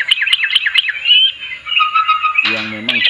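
A yellow-vented bulbul (trucuk) sings close and loud: a run of quick, bright chirps flows into sustained warbling phrases, with a brief low voice-like sound near the end.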